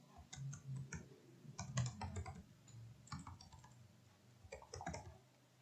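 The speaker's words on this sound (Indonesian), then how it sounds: "Sini kita ketikkan" Computer keyboard typing: bursts of quick, light key clicks in short irregular runs with brief pauses, close and fairly quiet, while a title is typed.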